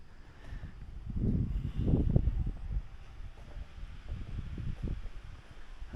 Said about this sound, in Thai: มีเสียงลมตลอดเลย